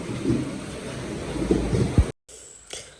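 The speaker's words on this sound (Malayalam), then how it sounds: "അപ്പോൾ പുറത്ത് നല്ല മഴയൊക്കെ" Heavy rain falling outside, a steady broadband wash with low rumbles like distant thunder, cutting off abruptly partway through.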